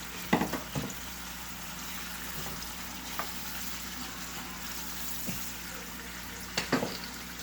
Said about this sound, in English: And this is where the bacon is still caramelizing